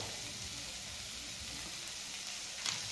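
Tomatoes and masala cooking in a pan, a soft, steady sizzle close by with a brief louder stir near the end.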